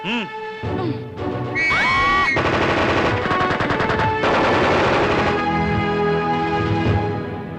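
Loud gunfire sound effect with rapid machine-gun bursts and sharp crashes, continuous and dense, mixed with tonal effects and cries near the start.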